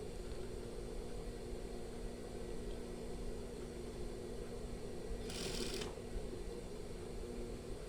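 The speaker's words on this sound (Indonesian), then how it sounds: "Sekarang kita jahit Perhatikan cara menjahitnya." A sewing machine stitches a batik shirt along its overlocked edge with no hem or fold, giving a steady, even whir with a low motor hum throughout and a brief brighter burst near the end.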